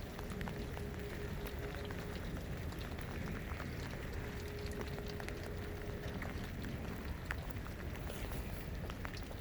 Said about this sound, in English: Man, it's really raining hard.